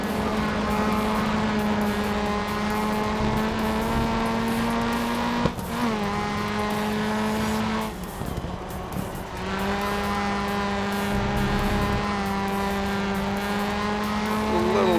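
A touring car races around Brands Hatch in Grid Autosport, its engine whining continuously at high revs. The note drops and shifts briefly under hard braking and gear changes, then climbs again.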